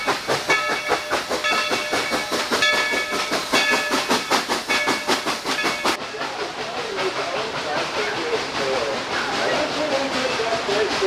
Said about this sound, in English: You can see all the fallen soot behind the train.